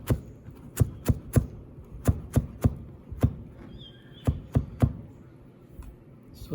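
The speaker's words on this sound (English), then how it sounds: "after juliennes we can chop it further, what we call as mincing" A knife strikes a cutting board in sharp, distinct chops while mincing julienned herbs in a kitchen, single knocks and quick pairs spaced irregularly, close and clear over a quiet background.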